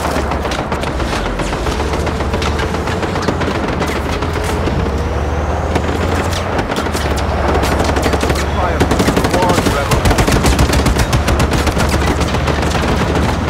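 Sustained, loud video-game gunfire in Just Cause 3, with dense rapid bursts of enemy automatic weapons hammering almost nonstop for over ten seconds over a low rumbling background.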